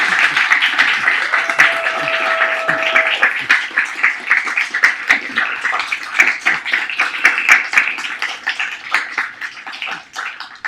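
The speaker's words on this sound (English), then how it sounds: "Can we have another round of applause for Alice and Emily?" Audience applause after a literary conversation on the Iliad at a library event, a long run of dense clapping that thins toward the end into scattered claps.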